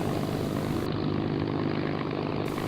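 Steady propeller drone from a Hawker Hurricane's engine in the FlightGear simulator, a loud continuous hum running unbroken with no voices over it.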